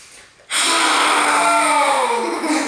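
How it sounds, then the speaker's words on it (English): A single long, forceful yoga exhale with the tongue stretched down toward the chin follows a quiet pause, a loud breathy rush lasting about two seconds close to the listener. "stretch your tongue down toward, like you're trying to touch the bottom of your chin as you breathe out"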